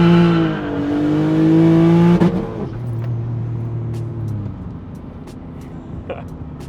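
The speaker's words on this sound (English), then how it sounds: "front wheel drive street cars with 400 wheel horsepower don't launch very good, even with 200 treadwear tires" A turbocharged V6 Honda Accord, a front-wheel-drive street car making about 400 wheel horsepower on 200-treadwear tires, launches with a loud engine drone that rises in pitch, then drops and settles into a lower pull as it moves off.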